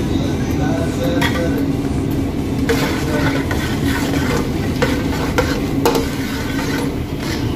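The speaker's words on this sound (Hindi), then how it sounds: "अब इसमें मैं तड़का लगा लेता हूँ।" Tempering spices sizzle and crackle steadily in hot refined oil for rava upma, with scraping stirring sounds and occasional clinks of a utensil against the pan throughout.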